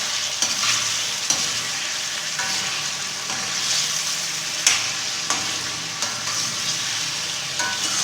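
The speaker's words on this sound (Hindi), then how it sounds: "इसको अच्छे से हिलाएं। चिकन थोड़ा सा भून चुका है।" Chicken pieces fry for a Peshawari charsi chicken karahi, under a continuous loud sizzle, while a spatula scrapes and knocks the pan in occasional strokes, close by and without voices.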